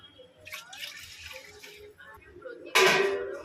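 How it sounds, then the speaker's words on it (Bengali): Water is poured into a pot of rice soaked for eight hours before half-boiling, a quiet trickle that ends in a louder, closer splashing rush, with faint background noise throughout. "এবার আমি জল দিয়ে এটাকে আগে হাফ সেদ্ধ করে নেব।"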